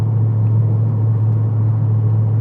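Steady, deep exhaust drone from a Porsche 911 fitted with a swapped LS2 V8 running untuned Holley EFI, heard from inside the car while cruising smoothly, with a constant low rumble and no talking.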